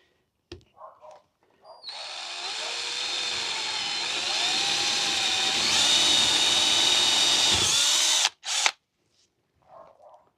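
Power saw cutting wood for a blackjack table, a loud whining cut of about six seconds that starts abruptly and stops with a clunk, the motor pitch bending slightly as it bites, with brief speech before and after.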